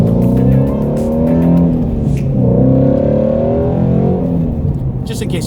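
Ford Mustang GT350 with a nitrous setup idles and revs close by, a deep, loud throbbing V8 rumble that swells and settles over several seconds with light background noise.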